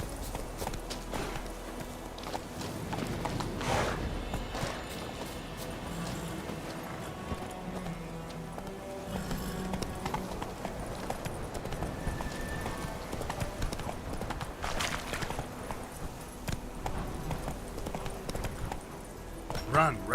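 Roach the horse gallops in The Witcher 3 with a quick, rhythmic clip-clop of hooves on the ground, heard close and continuous under game music while a voice speaks over it.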